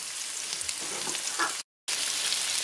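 Regional onions and potato slices fry in a pan with a steady, close sizzle, broken by a brief silent gap.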